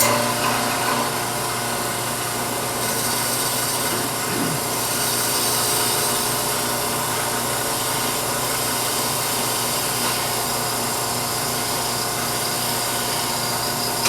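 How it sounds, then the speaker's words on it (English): Wood being turned on a lathe with a detail spindle gouge, a steady whirring motor drone with a faint scraping cut running continuously, no speech. "I'm just using a detailed spindle gouge"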